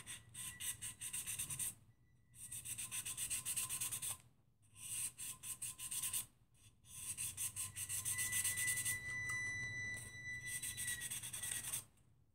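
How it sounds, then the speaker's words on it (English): 600-grit sandpaper rubs over a stainless steel tumbler in repeated raspy strokes, several bursts separated by brief pauses, fairly quiet and close. "I'm gonna go through with the sandpaper and get any of that stuff off."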